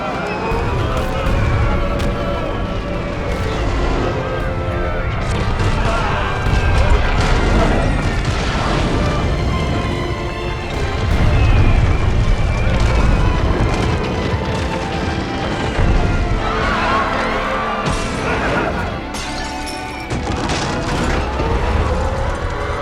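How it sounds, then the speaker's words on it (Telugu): Heavy bomb explosions from an air strike roll out one after another in a dense, loud, chaotic mix, with shouting voices breaking through now and then. "టార్గెట్ కి దగ్గర పడ్డాం. బాంబుల్ని విసరండి."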